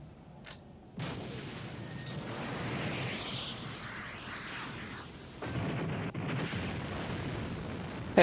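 A tank blows up during an anime space-fleet battle, a heavy explosive burst followed by a sustained rumbling roar and a second loud blast.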